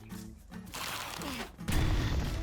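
A placed bomb detonates in the survival game DYSMANTLE, a loud broad blast erupting about two-thirds through and rumbling on after faint game sounds and quiet background noise.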